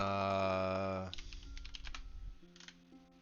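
Brief burst of typing on a computer keyboard, a quick run of light key clicks that follows a sustained tone and trails off into scattered taps.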